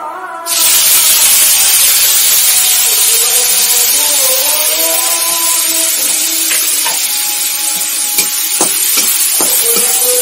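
Onions, green chillies and coriander leaves hit hot oil and break into a steady, loud sizzle that crackles on without pause.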